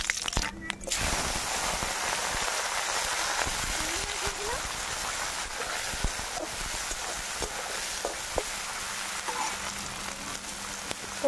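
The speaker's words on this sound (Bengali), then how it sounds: "জিরে, তেজপাতা, শুকনো লঙ্কা ফোড়ন দিয়ে দেবো।" Cumin, bay leaf and dried chilli sizzle in hot mustard oil in a kadai, a steady close crackling hiss that runs throughout, opening with a brief louder burst.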